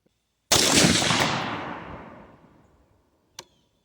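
A 22-250 AR10 rifle firing a Hornady 55gr soft point bullet, one loud sharp crack with a long rolling echo fading over two seconds, followed by a short faint click.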